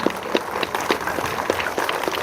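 Applause from the audience at a school Republic Day celebration in a village public school, a dense, steady wash of many hands clapping at a moderate distance throughout the short stretch.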